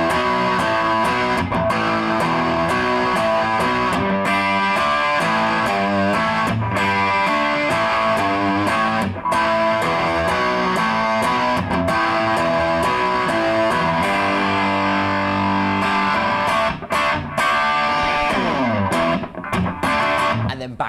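Distorted electric guitar plays the chorus riff of a song, loud and continuous with chunky, sustained chords and rhythmic accents over steady drums, no voices.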